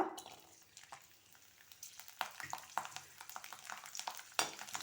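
A whole head of garlic frying in hot oil in a home kitchen, with a soft steady sizzle broken by scraping stirs and light clatters, close and moderately quiet.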